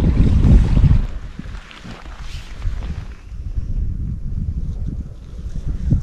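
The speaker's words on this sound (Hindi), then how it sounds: "यहाँ पर जो बहते पानी की आवाज़ है ये काफ़ी सूदिंग आवाज़ है" Flowing water of Beaver Creek in Saskatchewan: a steady, close rushing wash with a low rumble and wind buffeting the microphone throughout, with no talking.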